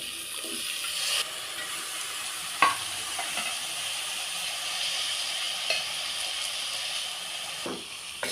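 Onion frying with broad beans and potato in a pan, a soft steady sizzle with occasional scraping stirs and light clinks, fairly quiet and with no talking.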